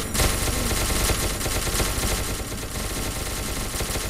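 Dense, continuous automatic gunfire in the video game SCP: Secret Laboratory, loud and close, rapid overlapping shots filling the whole stretch with no gaps.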